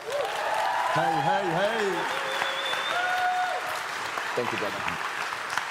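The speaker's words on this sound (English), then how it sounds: "Please give a little big round of applause to Yakub." A live crowd applauds and cheers steadily for a performer at a university closing ceremony in Tallinn, with a voice calling out over the clapping and melodic tones sounding within the noise.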